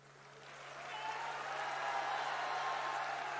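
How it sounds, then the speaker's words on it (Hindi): Audience applause at a political social media volunteers meet in Kolkata, a dense steady wash of clapping that swells over the first second and holds, with a faint low hum beneath. "ताली तो बजा रहे हो"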